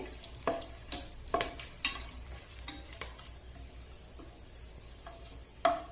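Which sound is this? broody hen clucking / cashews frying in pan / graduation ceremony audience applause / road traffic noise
cashews frying in pan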